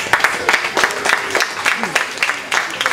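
A room of people clapping for sponsors at an awards event, sparse individual claps in an uneven rhythm, fairly close, with some voices in the background.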